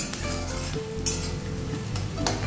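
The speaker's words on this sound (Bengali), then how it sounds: "একটু লাল করে এগুলো ভাজতে হয়।" Chopped onions sizzle in a pan and are stirred, with scraping and light utensil clinks over a continuous hiss of frying; nobody speaks.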